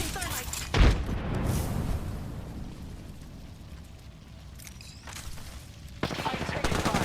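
Gunfire in Apex Legends, a busy burst of shots near the start and again near the end with a rumbling battle bed between, loud and close with voices in the mix.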